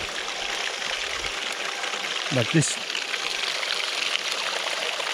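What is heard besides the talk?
creek water splashing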